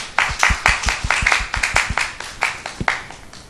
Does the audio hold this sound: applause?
yes